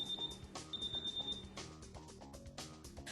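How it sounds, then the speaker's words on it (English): A home security alarm panel sounds its exit beeps while the system is being armed, a steady run of short, fairly quiet electronic tones repeating at an even pace, with muffled household sounds underneath. "This person has set her alarm, and the exit beeps are sounding as they leave to run an errand."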